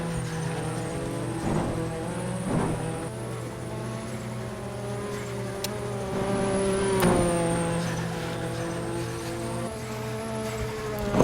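Race cars running on a circuit at the 1986 Japan GP, one car carrying on without its front wing; steady engine drone with layered harmonic whine, a few passing surges and brief louder swells, continuous and moderately distant.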